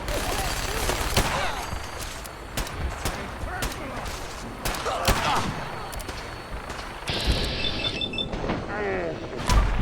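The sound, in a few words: gunfire from Gunners in Fallout 4 video game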